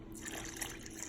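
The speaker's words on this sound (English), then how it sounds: "I'm going to add just a little bit of water." A small amount of water trickles and splashes into a pot of Caribbean-style rice and beans, a brief, steady close pour with no talk over it.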